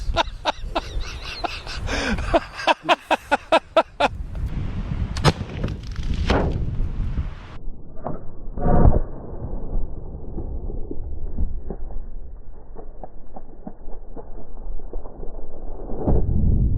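A four-bore flintlock elephant rifle fires into a drum filled with water, giving a loud booming blast with a splashing crash. Clicks and knocks of the flintlock action come first, and outdoor rumble and scattered small noises follow.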